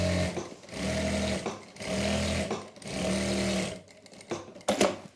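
An electric sewing machine stitches salwar fabric in three long, even bursts of rapid whirring, each about a second, with pauses between, then a short stop-start flurry and a clunk at the end, close and loud.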